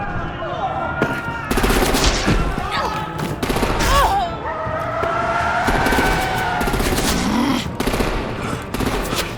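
Gunfire in Batman: The Enemy Within, with rapid bursts striking a woman among dense, loud game sounds and music, repeated cracks spread through the stretch.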